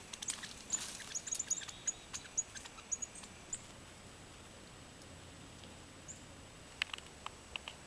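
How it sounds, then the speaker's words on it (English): Small birds chirp and tweet in a park with berry trees, short high calls scattered through the first few seconds and again near the end, faint and fairly distant over steady outdoor ambience. "There are so many birds out today."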